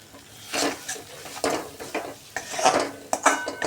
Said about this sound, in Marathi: मसाले छान असे तेलावर परतवून झाल्यानंतर त्याच्यामध्ये मी सगळे ड्राय मसाले घालून घेणार आहे.